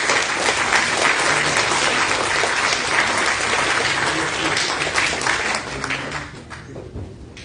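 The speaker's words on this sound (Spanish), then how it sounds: "un aplauso para Estela también" Audience applause for Estela Rueder, dense and sustained clapping from a crowd that tapers off near the end.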